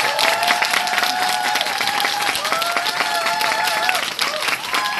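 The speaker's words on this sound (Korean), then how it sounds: "많은 박수 좀 쳐주세요." Steady, dense crowd applause at a Nu Skin business presentation, filling the room for the full stretch as the next speaker is introduced, with faint tonal sounds running underneath.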